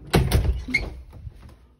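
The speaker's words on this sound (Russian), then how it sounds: "Завели дверь, закрыли за ней." An indoor door closes with a quick thump and rattle followed by a latch click, then a brief scrape as the sound fades, close and fairly loud with no talking.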